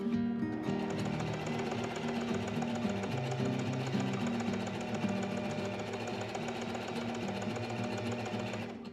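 A sewing machine runs a zigzag stitch along a fabric edge, its needle hammering in a fast, steady mechanical rhythm with a humming motor tone. Close and continuous, with no voices.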